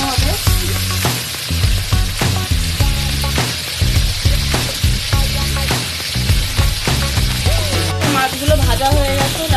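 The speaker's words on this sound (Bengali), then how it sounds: "এই মাছগুলো একটু ভালো করে ভাজতে হবে" Sonkor fish fry in hot oil with a loud, continuous sizzle and spatter close by, broken by rhythmic bursts as the pieces are moved, alongside faint tonal background sound.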